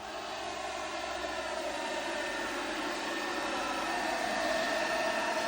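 A battery-powered garden sprayer's turbo nozzle fan runs steadily, a continuous airy whir with a faint tonal hum that builds slightly, close and alone without talk.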